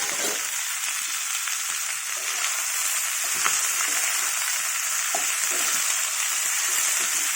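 Tomatoes fry in a hot pan for curry leaf tomato chutney, giving a continuous bright sizzle with faint stirring clicks and scrapes, close and steady with no talk.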